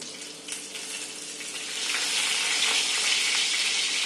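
Cumin, mustard seeds and broken curry leaves sizzle in hot oil, a close, continuous crackling hiss that swells louder about halfway through and then holds steady.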